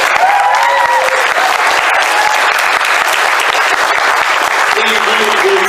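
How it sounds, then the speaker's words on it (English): A convention crowd applauds during a broadcast session, a loud sustained clatter of many hands with a few voices and brief tones mixed in underneath. "give Chris a round of applause because he."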